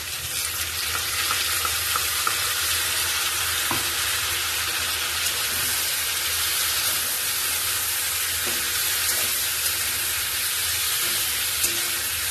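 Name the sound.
ginger garlic chili spice paste frying with cauliflower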